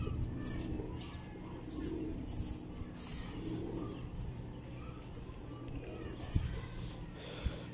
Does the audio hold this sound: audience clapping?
no